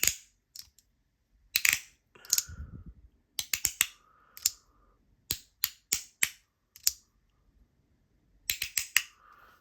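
Sharp plastic clicks and pops from a knock-off fidget toy, a series of crisp snaps close to the microphone, some in quick pairs and clusters separated by short silences.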